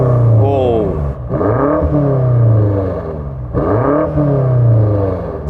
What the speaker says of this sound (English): Now let's hear the BMW rev